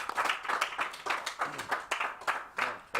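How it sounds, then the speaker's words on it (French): An audience claps for Ben, a quiet, steady patter of hands with rapid, evenly spaced slaps continuing throughout, with no voices. "Est-ce qu'on peut applaudir pour Ben?"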